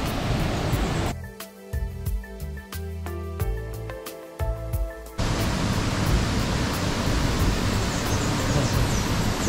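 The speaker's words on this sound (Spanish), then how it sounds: "estamos rodeados de dos cascadas majestuosas" Two large waterfalls roaring at an eco resort at sunset, a steady loud broadband rush that continues throughout, briefly interrupted by a few seconds of clicks and tones.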